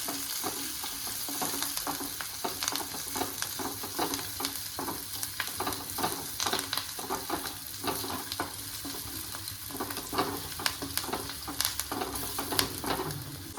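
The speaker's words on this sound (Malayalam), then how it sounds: "കറിവേപ്പില ചുവന്നുള്ളിയുടെ കളറൊക്കെ മാറിയിട്ട് ഗോൾഡൻ കളറായി വരും" Curry leaves and shallots fry in hot oil until golden for a mushroom curry. A dense, continuous sizzle runs throughout, broken by frequent quick clicks of stirring, close and steady with no talking.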